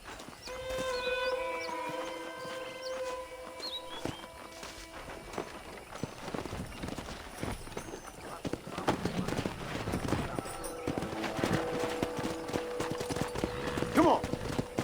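Horse hooves clip-clop at a steady trot in Red Dead Redemption, with a horse whinnying and game music and voices layered over the scene.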